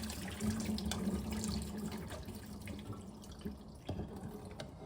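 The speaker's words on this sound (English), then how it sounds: "This is what I'm having to do with my pasta. So there's no colander either. So we're just draining it like this." Boiled pasta water poured off from a pot by tilting it, with no colander, into a sink: a steady trickle and splash of running water with scattered drips, fairly close and alone.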